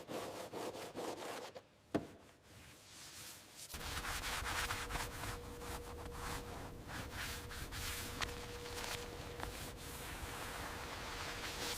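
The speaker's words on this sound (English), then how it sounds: "Wire brushing reveals bare metal beneath the corrosion." Corroded metal on a WWII Bf 109 propeller is wire brushed, giving steady, gritty rasping strokes, close and continuous, with a knock early on and a faint tone underneath.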